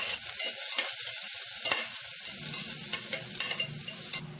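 Chopped garlic sizzles in hot oil over low heat for lomi, stirred steadily with scraping utensil strokes and a constant frying crackle, close and alone.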